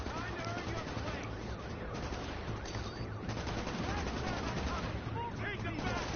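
Sustained gunfire crackles in The Division, a continuous fusillade of overlapping rifle shots under an in-game voice and chatter, with whistling effects around it.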